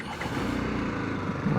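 A motorcycle taken out after a long idle period runs with a steady low engine rumble, close and continuous, with no speech.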